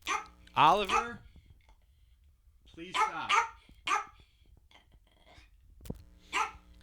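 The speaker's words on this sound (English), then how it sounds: "Even when there's a Yorkie who's absolutely terrorizing you and refuses to let up" A Yorkie barks in several sharp, close bursts with pauses between them, while a person speaks over the barking.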